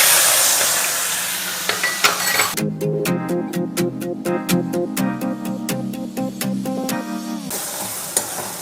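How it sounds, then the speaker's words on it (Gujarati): Onion paste sautéing for dum aloo in a pan already holding bay leaves, cinnamon, cloves and cardamom gives a steady close sizzle and hiss, broken by a run of sharp rhythmic clinks of a spoon against the pan. "તો તમે જોઈ રહ્યા છો કે ડુંગળી સરસ મજાની સંતળાઈ રહી છે"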